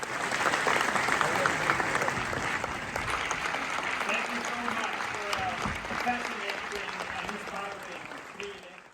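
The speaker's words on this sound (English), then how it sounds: "And when they were done, there was a very long standing ovation." A long standing ovation for Nobel Prize winners in a large hall, dense sustained applause from a big crowd that holds steady and slowly eases toward the end.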